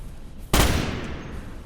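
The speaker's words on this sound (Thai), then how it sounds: "ปืนนี้ไม่มีโหมดนะครับเป็นปืนพลังไฟฟ้ามั้ง" An electric gun fires in the Starship Troopers video game, a single sharp, loud blast that cuts in abruptly and trails off in a sustained crackling roar; no talking.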